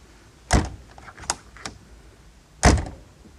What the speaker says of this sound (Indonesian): Ditutup pintunya itu juga enak ya, terdengar.